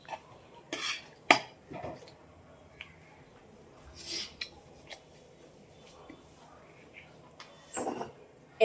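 Food is served out of a wok onto a plate: scattered metal scrapes and sharp clinks of a spoon against the pan and dish, close by, with quiet pauses and a faint voice now and then.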